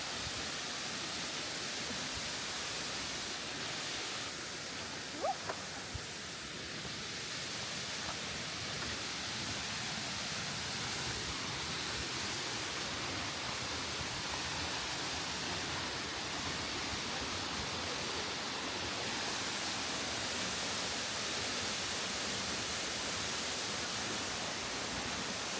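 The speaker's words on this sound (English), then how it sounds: "It's nice waterfalls." Kabigan Falls in Pagudpud roars as a steady, broadband rush of falling water, a continuous hiss that fills the whole stretch without letting up.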